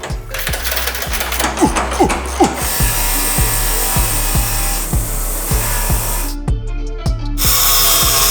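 Ratchet working a bolt on a Baja Bug's suspension, a steady run of sharp clicking strokes, close and loud, over a constant background hum and noisy shop clatter.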